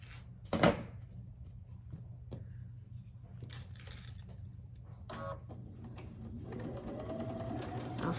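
A sewing machine stitches a quilt triangle, starting with a short clack and handling noises, then running in a steady rising whir toward the end. The sound is quiet and there is no talk.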